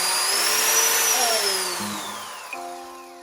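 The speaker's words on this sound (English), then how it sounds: "and then a hole drill mixer" A power drill fitted with a mixer paddle whirs loudly and continuously at close range while mixing with thin toilet paper, its pitch sliding gradually downward as it winds down near the end.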